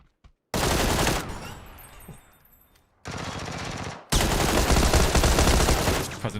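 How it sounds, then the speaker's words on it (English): Loud bursts of rapid automatic gunfire in the video game PUBG, several sustained volleys separated by brief pauses. "That's a lot of gunshots for it to be a bot."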